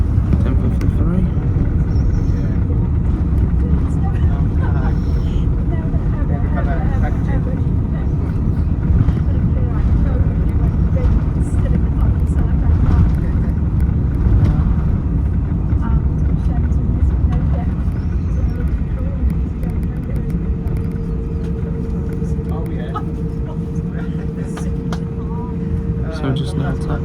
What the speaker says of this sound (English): So just now taxiing over to Terminal 2.